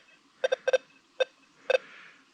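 A Deus 2 metal detector beeps over a gold ring target with iron tone off, several short clipped tones in quick pairs and singles, clear and close against a quiet background.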